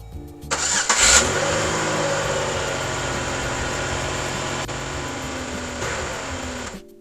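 A Pontiac car engine, just fitted with a new fuel pump, cranks briefly and catches, then settles into a loud, steady running note close by for several seconds before cutting off, no talking.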